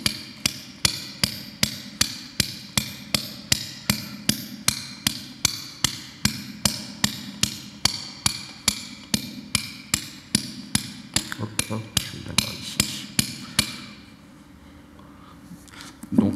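Steady hammer blows driving a steel point chisel into a stone block during carving, about two strikes per second in an even rhythm for roughly fourteen seconds, close and crisp, then stopping.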